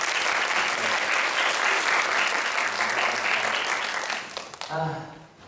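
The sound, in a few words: congregation applauding the returning pastor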